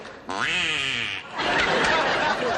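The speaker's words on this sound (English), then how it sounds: "Acme duck call." Acme duck call blown on a 1970s television game show stage, giving one loud, sustained nasal quack lasting about a second, followed by audience laughter.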